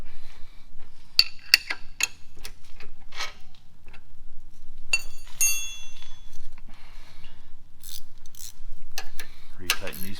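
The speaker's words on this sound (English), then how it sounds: "Three-quarter inch wrench," A three-quarter inch wrench ratchets while tightening a fine-thread bolt on a Trackchair AXIS track and motor assembly, a series of sharp metallic clicks in uneven bursts, close and clear.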